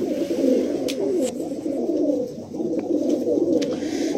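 Several Andhra pigeons coo continuously at close range, their low throaty rolling calls overlapping in a steady chorus, with a few faint higher clicks or chirps scattered above.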